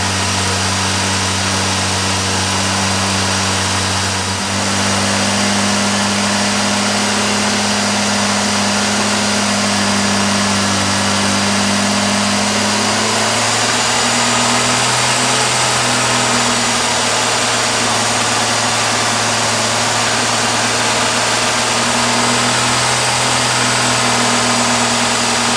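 A Ford 200 inline-six with a Holley Sniper 2300 and Hyperspark ignition runs through cam break-in, a loud steady drone whose pitch shifts up partway through as the RPM is varied, with no voices.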